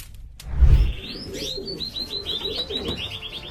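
Pigeons cooing and warbling in a wavering run of soft calls after a brief low thump, close and fairly clear, with no talking.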